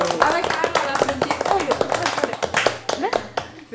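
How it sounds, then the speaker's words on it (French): An audience claps at a French talk show, with dense, quick claps running steadily through the whole stretch while people talk loudly over them. "Ah ouais, carrément, on va applaudir."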